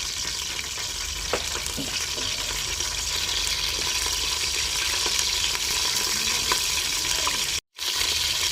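Cooking oil heats and sizzles in a pan ready for rice, a steady soft hiss running throughout with a few faint clinks.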